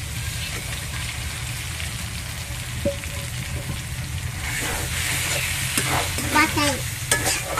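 Pointed gourd (potol) pieces go into hot spiced oil with coriander powder in a pan, giving a steady sizzle that swells louder in the second half, with scraping and stirring clatter near the end.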